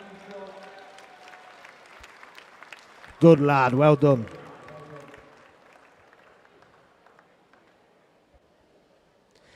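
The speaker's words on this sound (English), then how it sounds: "Let's cheer him in on these last few strokes." A brief burst of crowd cheering and shouting for a nine-year-old swimmer finishing his last strokes in lane 7 at a county qualifier swimming gala, loud for about a second, with someone speaking before and after.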